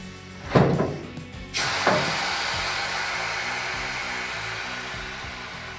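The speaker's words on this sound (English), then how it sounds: "You'll hear the lock snap in as you get to travel height." Two sharp clunks of a Scag mower deck lock snapping into place at travel height, a second apart, followed by a steady mechanical hum of machinery running.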